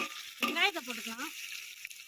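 About 300 grams of onions drop into a hot pan for chicken gravy, giving a soft sizzling hiss over which a voice briefly talks, the frying fading to a faint crackle by the end.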